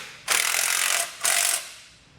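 A ratchet tightens a factory bolt on a Roadmaster crossbar-style base plate fitted to a 2020 vehicle, heard as two close, loud bursts of rapid clicking, the first about three quarters of a second long and the second shorter, with no talking.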